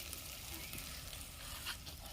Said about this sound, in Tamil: கருவாடு வறுத்துது.